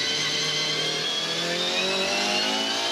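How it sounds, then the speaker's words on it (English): A V8 Supercar at the 2014 Auckland 500 street race howls loud and continuous at high revs as the driver feeds in throttle, with the engine tone climbing steadily and no voices over it. "Listen to the throttle application. You'll hear the wheel spin."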